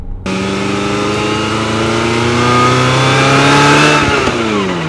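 A Ferrari 355 Berlinetta's engine rises in a smooth, loud rev from idle, climbing steadily in pitch for several seconds before dropping back sharply as the throttle is released. Close and alone, with no talk.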